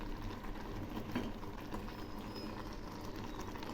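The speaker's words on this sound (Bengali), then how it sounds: "শাকগুলো প্রায় সেদ্ধ হয়ে আসছে" Jute leaf greens and lentils simmer in a pot, giving a soft, continuous bubbling that stays low and even throughout, with no talking over it.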